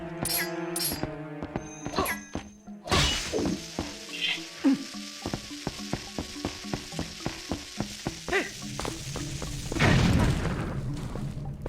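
A bomb detonating in The Legend of Zelda: Twilight Princess: a sudden booming burst with a crackling, sizzling tail, set among repeated clinking and tapping game effects and a busy musical bed, with no voice.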